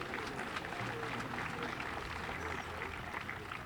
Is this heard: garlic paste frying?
no